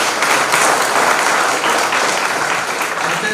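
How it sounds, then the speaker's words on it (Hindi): An indoor audience at a business seminar in Gujarat breaks into loud, dense, sustained applause, with many hands clapping together at a steady level throughout. "एक बार जोरदार तालियां"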